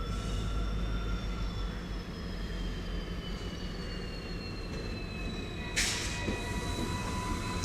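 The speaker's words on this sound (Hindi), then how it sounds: "ये ट्रेन की आवाज़ आप सुनिए" A train at New Jalpaiguri railway station rumbles and grinds in a steady stream, with thin high wheel squeals sliding downward throughout and a brief bright burst of hiss or screech near the end. No voices.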